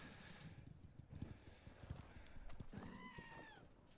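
A llama dirt bike in Ghost Recon Wildlands gives off quick, quiet hoof-like clip-clops followed by a short, high neighing bray.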